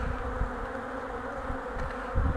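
Honey bees buzz in a dense, steady swarm as a frame from a honey production hive is shaken out, with a few soft thumps beneath the drone, close and fairly quiet.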